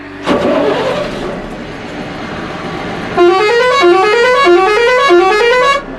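A 222-wheelbase tourist bus with pixel-work styling starts up with a loud burst of its engine, then blasts a melodic multi-tone horn that repeats rising note patterns for several seconds. It is close and loud, with no talking.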